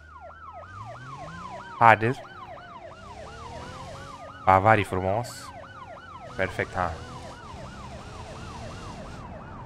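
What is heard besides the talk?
police car siren in the video game BeamNG Drive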